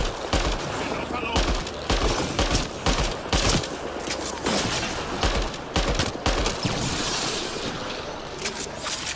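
Gunfire in the video game Mass Effect: Andromeda during a snowy outlaw fight, rapid sharp bursts repeating in clusters over a busy, loud background mix.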